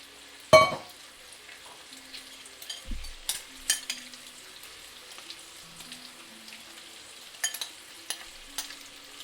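Faint, steady frying crackle of bacon in a pan, broken by a few louder clinks and scrapes of utensils, with no voices.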